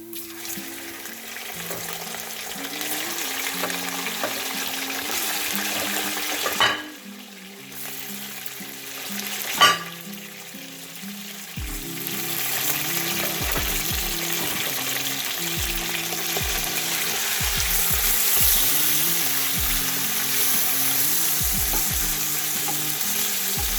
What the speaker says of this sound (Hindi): गोश्त का जब तक कलर चेंज ना हो जाए आपने ऑयल में इसको भूनना है इसी तरह से।